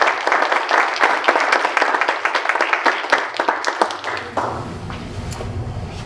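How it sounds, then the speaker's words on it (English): Audience applause at a family-night internet safety presentation: dense, steady clapping from a room full of people for about four seconds, then tapering off into a quieter murmuring hall. "So let's give a round of applause."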